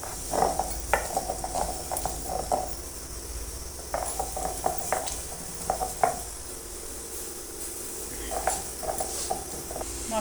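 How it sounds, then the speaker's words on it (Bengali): Onion and garlic are ground by hand for a home recipe with repeated rhythmic knocks and scraping strokes at close range, set against a faint steady background hum. "মা কিন্তু এখানে আমাকে পেঁয়াজ রসুনটা বেটে দিচ্ছে।"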